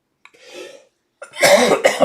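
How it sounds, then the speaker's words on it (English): A soft cough, then a louder, harsher double cough close to the microphone. "My apologies for the cough"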